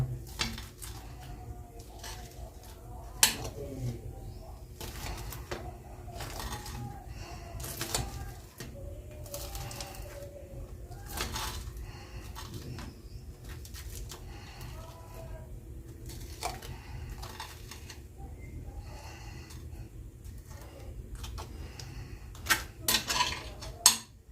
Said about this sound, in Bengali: এবার ছুরি দিয়ে মিডিলটা কেটে দিচ্ছি খাবার সুবিধের জন্য